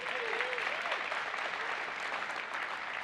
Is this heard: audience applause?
yes